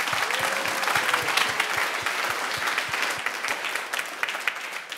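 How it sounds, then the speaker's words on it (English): An audience at the True Price Festival 2022 applauds a panel, producing dense, sustained clapping at a steady level, with a faint regular low thumping running underneath. "Please give a warm applause to our lovely panel of tonight."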